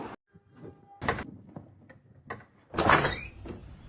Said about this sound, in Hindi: दरवाजा खोलने में इतनी देर?